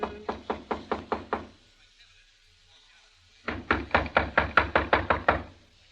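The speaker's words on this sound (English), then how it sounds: "A few seconds later, I knocked on the door." Two bursts of brisk knuckle raps on a hotel room door, about seven quick, evenly spaced knocks each, separated by a short pause, loud and close in an old-time radio drama setting.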